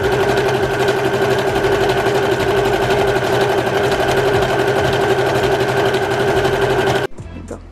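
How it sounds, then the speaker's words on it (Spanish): A sewing machine runs steadily, stitching a line with its needle lowered and presser foot down, a continuous fast mechanical chatter that stops abruptly near the end. "siempre pongo mi aguja primero, bajo el pie y comienzo a hacer esa puntada."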